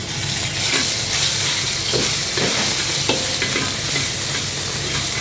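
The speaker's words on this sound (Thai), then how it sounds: "รวนหมูก่อนครับ" Pork stir-frying in vegetable oil in a pan, with a loud continuous hiss and sizzle broken by repeated scraping strokes of a utensil against the pan.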